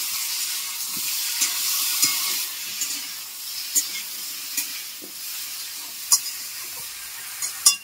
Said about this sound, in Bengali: সব সবজিগুলো আমি একসাথে দিয়ে দিলাম।